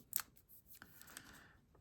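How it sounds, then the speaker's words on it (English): A single quick snip of scissors cutting paper, close and quiet, followed by faint rustling. "I'm going to keep my scissors handy. I'm going to trim off some of this here."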